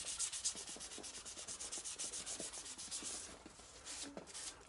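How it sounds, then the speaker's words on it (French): Hand sanding a very rusty metal moped part from a 1985 Mobylette, a soft, rhythmic rasping of strokes back and forth, close and fairly quiet, with no talking. "sauf là où je vais poncer un peu plus"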